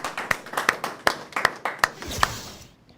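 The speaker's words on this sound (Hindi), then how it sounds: "सुश्री समीक्षा जादौन जी के लिए जोरदार तालियां" Audience at a Hindi poetry gathering claps in a burst of sharp, distinct hand claps that ring out several times before tailing off into quiet.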